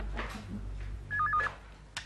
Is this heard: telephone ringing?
yes